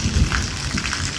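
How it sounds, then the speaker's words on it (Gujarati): Rain falling at night in a village during a power cut, a dense close patter of drops hitting surfaces, steady and unbroken with no voices. "તો હજી વરસાદ ચાલુ છે"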